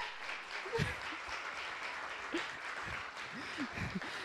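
Audience applause at the finale of a talent show, a steady wash of clapping that carries on throughout, with a few voices calling out over it.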